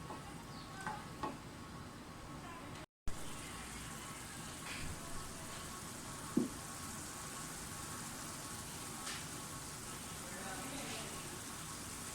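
Tomato puree cooks in a pan with a soft, steady sizzle and occasional faint pops, while someone speaks at intervals.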